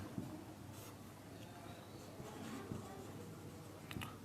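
Pen or chalk writing during a Hindi-medium Class 11 chemistry lesson on corrosion, faint scratchy strokes under low room hiss with brief pauses.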